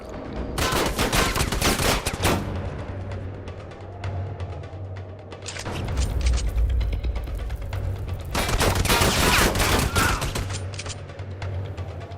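Video game gunfire and shotgun blasts come in loud, dense volleys, with clustered bursts separated by brief quieter gaps.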